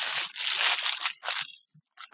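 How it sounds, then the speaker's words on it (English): A plastic mailbag package marked electronics is torn open by hand, several loud close ripping and crinkling bursts in quick succession, then brief rustles as the tearing stops, with no talk. "And I think I'm able to rip it up. It's just a plastic bag."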